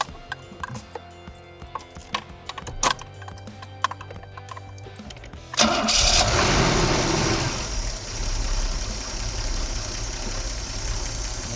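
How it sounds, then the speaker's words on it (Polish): An old Opel Senator A1 engine cranks and catches, then settles into a loud, uneven idle with a steady knocking rhythm after a few seconds of quieter shuffling. "ten silniczek chodzi bardzo pięknie"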